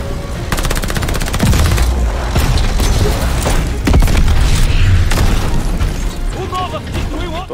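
Rapid machine-gun bursts and heavy single shots from the Call of Duty Vanguard video game fire loudly and almost without pause, with booms mixed in, and a voice talks over the shooting.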